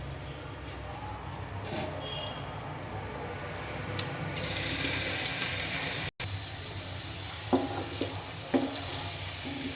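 Dried fish crackles and sizzles in hot oil in a kadai, a continuous close frying hiss that swells partway through, with a few scraping stirs and clinks near the end.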